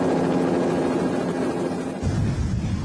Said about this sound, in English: Mark Davies can't just watch from the safety of the helicopter